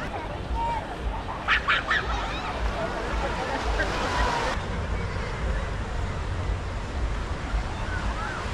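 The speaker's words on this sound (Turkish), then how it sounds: "Meksika'da böyle bir sokakta kuşlar o kadar çok ses yapıyorlar ki" Busy outdoor street ambience in Puerto Escondido, Mexico, with scattered bird calls and squawks over a steady background rumble, some chirps briefly standing out, with people talking.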